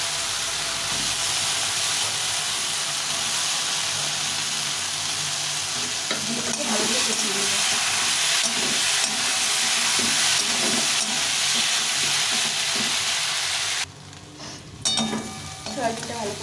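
Soybean chunks fry in spice masala in a pan with a loud, steady, close sizzling hiss, and rhythmic scraping stirs grow busier partway through before the sizzle suddenly drops near the end.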